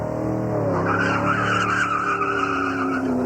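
A drag car launches at Summernats with tyre smoke and axle tramp, giving a loud, sustained engine roar and tyre squeal that rises steadily in pitch and holds for the whole stretch.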